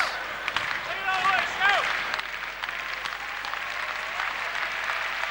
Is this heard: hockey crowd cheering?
yes